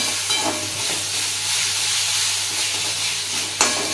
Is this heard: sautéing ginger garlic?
yes